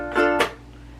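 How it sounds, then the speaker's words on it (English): A short ukulele strum followed by a muted, percussive chuck, with the strings damped so the chord barely rings. Close and fairly loud, no voices. "It just sounds like you're kind of muting the strings."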